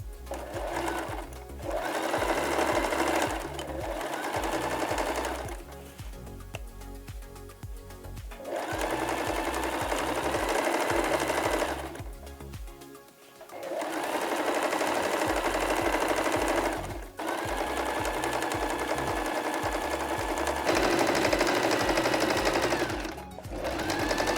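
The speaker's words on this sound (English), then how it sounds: "Leave a small opening, 10 centimeters or so, and you can start sewing again." A sewing machine stitches fabric in long, fast, steady runs of rapid mechanical rattling, close and loud, broken by brief pauses where it stops and restarts.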